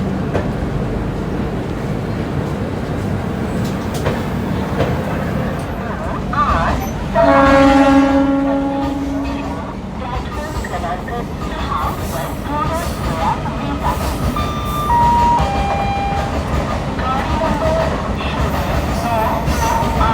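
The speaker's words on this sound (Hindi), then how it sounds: "कुछ समय के पश्चात भावनगर काकीनाडा पोर्ट ट्रेन अपने गंतव्य की तरफ बढ़ चली" The Bhavnagar–Kakinada Port train pulls out of a station, a loud continuous rumble of rolling wagons with a brief horn tone near the start, heard up close and steady throughout.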